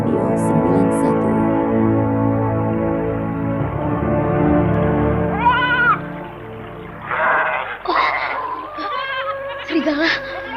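Goats bleating in a radio drama, several quavering cries rising over a layered background of music and voices, loud and close, with bleats overlapping toward the end.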